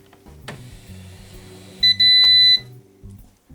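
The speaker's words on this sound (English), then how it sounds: "Now there is another beep that happens if you go to the end of the page." A Smith Corona word processor typewriter sounds a loud, shrill warning beep at the end of the page, a brief blip and then a sustained tone of almost a second, amid the soft clatter of the held space bar.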